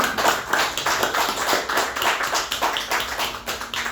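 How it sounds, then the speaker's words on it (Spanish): A church congregation claps in praise during a Spanish-language service, a rhythmic, fairly close run of many hands beating in time, roughly two claps per second. "Un aplauso al Señor."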